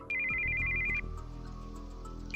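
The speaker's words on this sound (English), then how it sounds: "we heard the sound of an incoming call on a cell phone" Cell phone incoming call ringtone in the visual novel game Steins;Gate 0, a steady electronic ringing tone with a repeating melodic pattern over a low background drone, clear and alone without speech.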